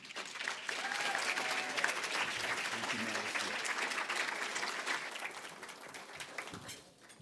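An audience claps steadily for a guest lecturer at a talk on conservatism, sustained applause filling the room for several seconds before tapering off near the end.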